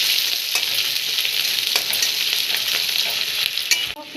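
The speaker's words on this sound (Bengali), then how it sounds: "পেঁয়াজটা ভালো করে ভেজে নেব" Onions sizzle steadily in hot oil in a pan while a spoon stirs them, with regular scraping strokes over a continuous bright frying hiss and no voices.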